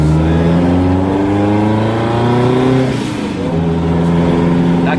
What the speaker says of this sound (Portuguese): Tá queimando pneu porque tá forte mesmo, essa desgraça